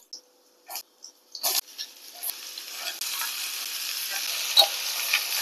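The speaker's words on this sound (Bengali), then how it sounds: "তেলটা এখন গরম হয়ে গেলে এর মধ্যে আমরা চৌকো চৌকো করে কেটে রাখা আলুগুলো দিয়ে দেবো।" Diced potatoes hit hot mustard oil with a few soft clicks, then a steady, building sizzle of frying that carries on to the end, close and moderately loud with no talking.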